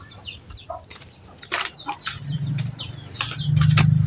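Chickens in a dirty chicken coop give scattered short clucks and squawks close by, with brief bursts of wing flapping and a low steady hum building underneath toward the end.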